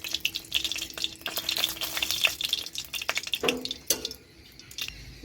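Oil heating in a wok before garlic goes in for chilli garlic potato balls crackles and pops close up, with dense small spatters that thin out toward the end, and no talk.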